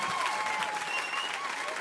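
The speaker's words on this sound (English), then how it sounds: "Round of applause." Audience clapping briefly at a launch event, a short burst of dense applause that holds steady throughout without a voice on top.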